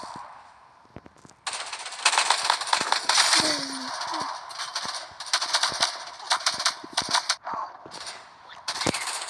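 Rapid bursts of video-game gunfire from the mobile shooter Modern Strike crackle in uneven volleys, sharp and close, with a few isolated shots between the longer strings.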